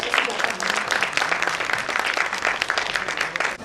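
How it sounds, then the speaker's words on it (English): An audience in a conference hall applauds to welcome a speaker at an education session, a dense and steady round of clapping from many hands, moderately loud and with no talk. "Ladies and gentlemen, give a big round of applause"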